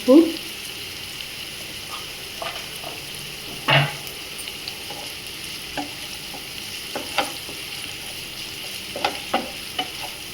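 Onions frying in a pan for a chicken fry, a soft continuous sizzle broken by a loud scrape at the start, another around the middle, and scattered light stirring clinks.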